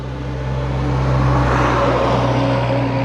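A stock-engine Yamaha Sniper 155 motorcycle fitted with UMA M9 tuning idles close by, a steady, even low hum that swells slightly and keeps a constant pitch throughout.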